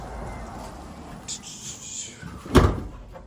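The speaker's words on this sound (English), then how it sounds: "Let's pop the hood right now." A Mopar V6 car's hood is popped open with a single sharp, close thunk after some faint rustling and a brief creak, with low voices around it.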